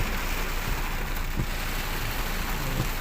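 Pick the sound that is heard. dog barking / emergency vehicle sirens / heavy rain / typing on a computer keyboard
heavy rain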